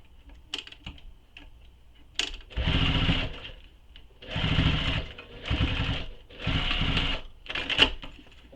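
A sewing machine top stitching the gusset of a fabric belt bag, running in four loud, close, steady whirring bursts of a second or so each, separated by short pauses with light handling clicks.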